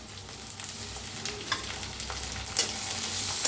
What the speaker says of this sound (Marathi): त्याला भाजून घ्यायचं। कांदा टमाटर छान असं भाजलेलं आहे